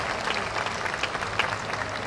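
An audience at a flower-lovers' gathering in Alūksne, Latvia, claps steadily in dense, sustained applause with no pauses.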